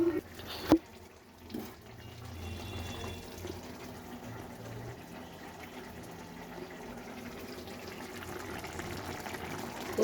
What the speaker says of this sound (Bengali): এবার আমি সামান্য জল দিয়ে দিলাম।